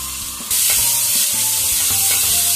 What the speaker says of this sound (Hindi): इसके अंदर मैं 1 खाने का चम्मच भर के लहसुन अदरक का पेस्ट ऐड करूंगी